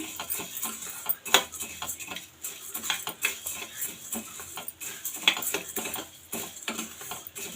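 Coriander seeds and cumin dry-roasting in a pan for spicy coriander chutney powder, with a steady close clatter of a spoon scraping and stirring against metal and a few sharper clinks.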